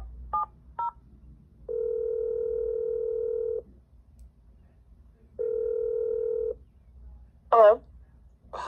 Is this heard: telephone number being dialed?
yes